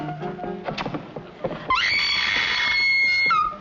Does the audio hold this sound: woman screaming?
yes